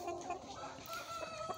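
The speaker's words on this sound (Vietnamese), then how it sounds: "Đàn gà 4 tháng tuổi" A flock of four-month-old crossbred fighting chickens, raised free-range, clucks and calls in a brief, soft, overlapping chorus at moderate distance.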